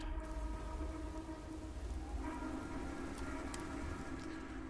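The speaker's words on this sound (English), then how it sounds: "And it's raining." Steady rain in the video game Starfield patters softly against a surface, alongside a low droning hum and a few faint clicks.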